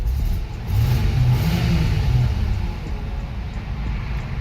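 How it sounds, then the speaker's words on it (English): The engine of a 30-year-old Buick revs up under the throttle, swelling for about a second and a half, then settles back to a lower steady hum. "if we look at even just the throttle response"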